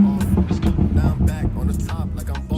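A BMW 340i with a B58 engine and VRSF downpipe, parked in sport mode, revs loudly up close in a few quick blips with a low rumble, sounding under steady talk.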